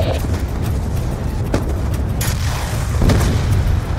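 Tanks exploding in the video game Call of Duty: Black Ops 2, with loud, deep booms and rumbling blasts stacked over continuous battle noise. Two sharper explosive hits come near the middle and the end.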